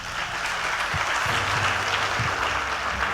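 Audience applause at a network marketing seminar swells as a dense, steady patter of many hands clapping together, filling the room evenly without a break.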